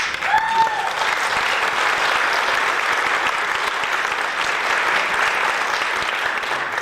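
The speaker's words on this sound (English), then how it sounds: "And I'd like to hear a big round of applause." A big round of applause from an audience, steady dense clapping held at an even, fairly loud level throughout, with a brief voice at the very start.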